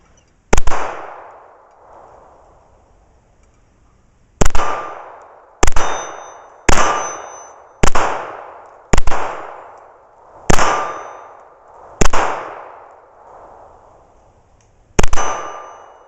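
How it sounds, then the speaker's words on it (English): Walther PK380 pistol firing .380 ACP rounds at a steel target, each shot followed by a ringing metallic clang; nine sharp hits arrive singly at irregular intervals, loud and close, with the ring decaying between them. "then we'll shoot a few more magazines at this distance and then do something different"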